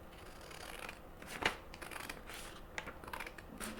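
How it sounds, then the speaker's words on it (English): Scissors cut through a paper printout, splitting the sheet in half with a few soft, crisp snips, one sharper crunch standing out midway, close and fairly quiet with no talking. "get them to cut it in half for you"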